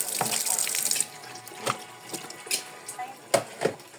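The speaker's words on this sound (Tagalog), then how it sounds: "Para itapon yung tubig na pinagpunasan niya." Wiping water is tossed outdoors, a splashing pour at the start followed by scattered drips and small knocks, fairly close with no talk over it.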